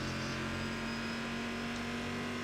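An American V8 race car in the iRacing sim, a loud steady engine drone holding a constant pitch, heard close and alone without talk.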